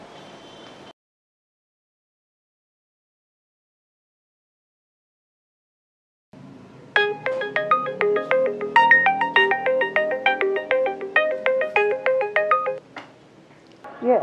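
A telephone ringtone plays during a call in a hospital scene of a Makassar drama film: loud, rapid patterned electronic beeps that repeat for about six seconds after a pause, ending just before a voice answers.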